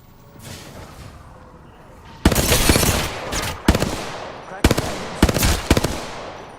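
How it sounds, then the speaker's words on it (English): Video game gunfire: after a quieter lead-in, sharp loud bursts of rapid shots break out in several clusters separated by short pauses. "Being shot at."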